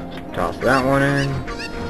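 A short, loud squawking cluck from a chicken in the video game Ocarina of Time, a single drawn-out call rising and falling over quiet game ambience.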